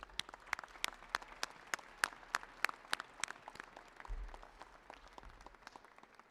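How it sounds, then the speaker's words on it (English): Audience applause following a choir's performance at a school choice press conference, quiet and distant: a sparse, steady run of individual claps, slightly irregular, fading slightly toward the end with a low thump near the close. "Let's give that choir another round of applause."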